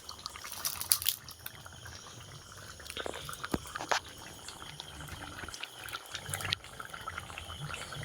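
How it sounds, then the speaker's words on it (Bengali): Water poured into a pot of chicken curry on a home stove, heard as a brief splashing pour with scattered drips and bubbling, close and moderately loud amid faint kitchen clatter. "জল ঢেলে দিচ্ছি"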